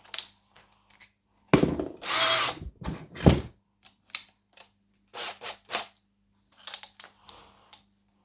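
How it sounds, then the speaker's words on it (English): A power drill bores holes in stainless steel, with a loud whining burst of drilling, short pauses and smaller taps and clicks between runs, close by and without talk. "I will drill extra 12 hole here"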